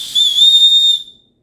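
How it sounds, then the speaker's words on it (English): A small whistle built into the handle of a water bottle gives one loud, shrill, steady blast of about a second, close up and alone before cutting off. "it's a whistle"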